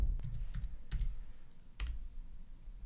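Computer keyboard typing, a handful of soft irregular key taps close by in a quiet room.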